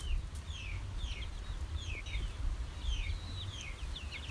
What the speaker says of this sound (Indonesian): ini sudah belajar berkokok ya teman-teman walaupun agak nyaring